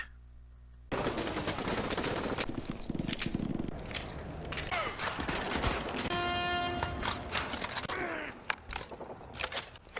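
Rapid gunfire bursts rattle through Call of Duty: Modern Warfare 2 Campaign Remastered training, with dense automatic fire, gear clinks and a ringing tone partway through.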